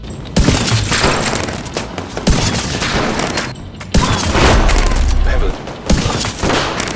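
Marksman rifle fire mixed with fireworks bursts in The Division 2, a loud, dense fusillade of repeated booms and cracks running nearly continuously with brief gaps, likely with a voice speaking over it.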